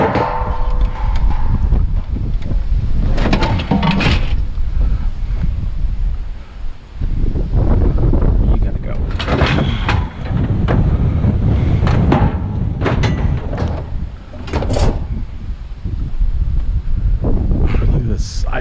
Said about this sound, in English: Man, it got windy.